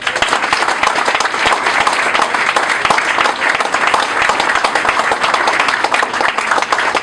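Continuous, loud audience applause, dense, even clapping holding steady throughout.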